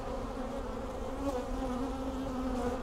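Honey bees buzz steadily and loudly around an open hive during an inspection, a continuous close droning hum with no voices.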